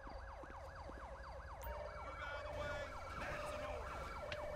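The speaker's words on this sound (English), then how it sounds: "I'm assuming just an ambulance out here." Ambulance siren in the video game GTA 5, a rapid repeating wail sweeping up and down, fairly close and continuous, with some low road and engine rumble underneath.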